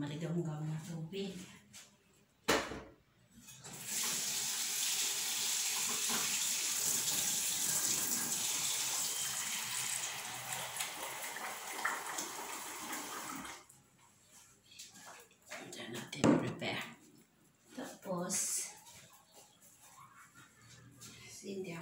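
Lukewarm water runs from a tap during home focaccia pugliese preparation, a steady continuous gush lasting about ten seconds, close and fairly loud, with speech before and after it.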